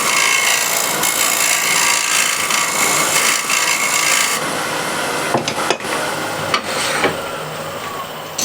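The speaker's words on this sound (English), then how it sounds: "scrape the corner here to the middle. To get nice crisp corner." Steady rasping scrape of a hand tool across an ebony wood corner, continuous and close, with a few sharper knocks and pauses near the end.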